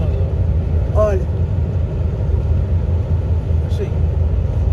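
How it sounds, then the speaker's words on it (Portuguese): A truck passes at a distance in a large park area, heard as a steady low engine and road rumble with voices speaking over it. "Olha o caminhão passando por lá."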